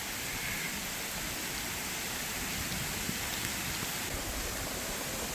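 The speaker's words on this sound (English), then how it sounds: "Here's all the rain just rolling off of it." Steady, dense hiss of storm rain pattering on an inflatable air tent, constant and even throughout with no voices.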